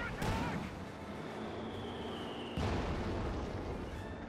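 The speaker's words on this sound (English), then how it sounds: "Field barrage there, wipes the Jaegers in one hit." Field artillery barrage explosions in Company of Heroes 2, a heavy boom near the start and a second strong blast around halfway, with rumbling debris and battle noise between, under faint talk.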